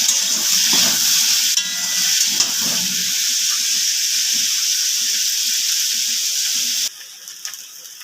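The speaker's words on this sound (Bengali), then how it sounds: "নুন আর হলুদ দিয়ে ভালো করে ভেজে নেব।" Vegetables for shukto fry with salt and turmeric in hot oil, making a steady loud sizzle with scraping stirs that stop abruptly near the end.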